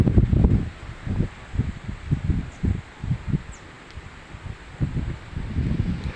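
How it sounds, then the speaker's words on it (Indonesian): Strong wind gusts buffet the microphone outdoors in repeated low rumbling bursts, with rustling leaves and a faint insect or bird call high above. "Anginnya besar."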